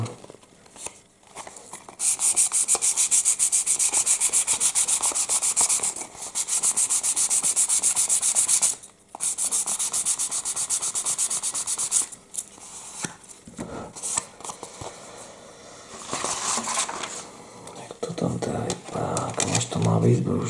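A plastic part from a 1:32 Revell Hawker Tempest Mk.V scale model being sanded by hand, close rasping strokes in long steady bursts separated by short pauses, with a voice speaking briefly in between.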